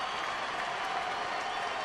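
Large baseball stadium crowd of about 29,000 cheers and applauds steadily with one out left, a broad continuous roar of clapping and voices with no break.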